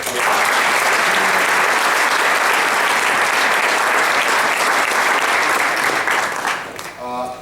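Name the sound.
applause from the audience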